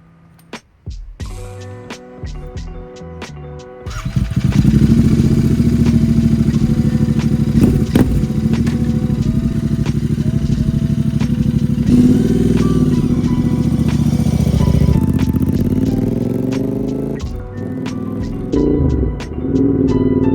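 A Royal Enfield Interceptor 650 motorcycle engine revs up and roars steadily as the bike rides off, loud and close, with throttle changes and gear shifts, no talking.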